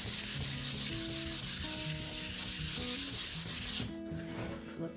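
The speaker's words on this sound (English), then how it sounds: "And now I'm just gonna sand for smoothness." A painted wooden sign base is hand sanded smooth, giving a rhythmic, close scratchy rubbing in quick repeated strokes, fading to a softer rub near the end, over faint background music.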